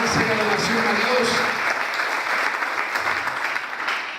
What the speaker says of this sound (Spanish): Si vas a aplaudir, apláudele con ganas.